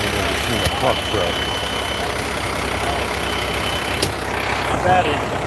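A pump truck runs at a sewage lift station, a steady engine drone with faint high beeps, a brief hiss and clanks, while people talk nearby.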